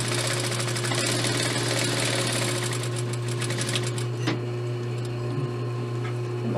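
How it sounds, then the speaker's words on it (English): A sewing machine stitching the short ends of a skirt waistband with a steady, close mechanical whir and hum, then a brief pause near the end. "Now we're going to take the band and sew the short ends together."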